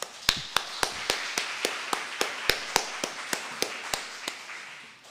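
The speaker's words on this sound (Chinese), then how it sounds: "我们拍手" A congregation at a Taiwanese-language Presbyterian Sunday service claps in steady unison, about sixteen sharp, evenly spaced claps at a brisk pace, fairly faint and with no talking over them.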